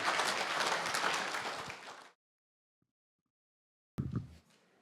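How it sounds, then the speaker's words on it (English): An audience applauds after a testimony: dense, loud clapping for about two seconds that cuts to silence, then a short final burst of noise. "Give him a round of applause"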